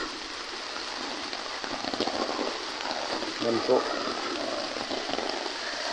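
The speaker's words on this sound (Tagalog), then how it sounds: "Sobrang lakas ng ulan, walang tigil ang ulan." Heavy, nonstop rain in Eastern Samar, a steady broadband wash of rainfall across the whole stretch, with a voice speaking briefly over it.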